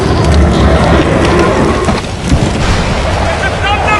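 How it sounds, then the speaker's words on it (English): Storm giants do battle in LEGO The Hobbit video game, a loud, dense roar of thunder and rain-like rumble that holds steady for several seconds, with a game voice partly mixed in. "It's a thunder battle! Giants! Storm giants!"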